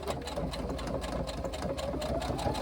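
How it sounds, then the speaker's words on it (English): A sewing machine top stitching about a quarter inch from the edge around the top of a reversible tote bag, near the handle: a steady, fast mechanical whir with an even rhythmic chatter, close up and alone. "we're going to do roughly 1/4 inch top stitching"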